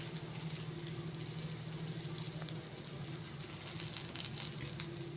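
Eggplant frying in oil over a low flame, a steady close sizzle with crackling that holds evenly throughout without talk.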